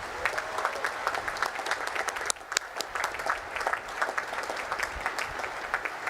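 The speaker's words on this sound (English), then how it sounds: "please join me in giving them a heartfelt round of applause" Audience applause at a commissioning ceremony, a broad, steady wash of many hands clapping at moderate volume for the full stretch, with a couple of sharper claps standing out midway.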